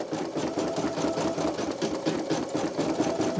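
A Brother PE900 or NQ1700E embroidery machine stitching out a design, its needle pounding in a fast steady rhythm with a constant mechanical whir, close and fairly loud throughout.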